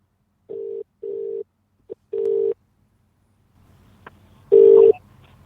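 Telephone keypad dialing tones on a call being placed back, a run of separate steady beeps with short gaps, followed by a louder final tone over faint line noise, with no voices.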